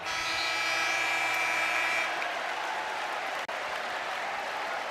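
A crowd in a basketball arena roars and applauds near halftime of an Arkansas Razorbacks versus Southern Jaguars men's college game, a sustained, dense wall of cheering and clapping with a steady tone fading after two seconds.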